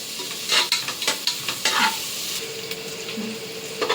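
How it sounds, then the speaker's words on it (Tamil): Onions for mushroom biryani sauté in a pan until golden, with a steady sizzle of hot oil broken by repeated scraping and stirring strokes of a spatula, close by and loud, with no talking. "இப்போ நல்லா வெங்காயம் பொன்னிறமாக நல்லா வதக்கி வந்துடுச்சு."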